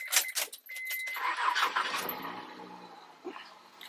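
A 2002 Honda Odyssey engine is cranked with a battery booster, with keys jangling at the start, then the engine catches and settles into a steady running tone that slowly fades, all up close.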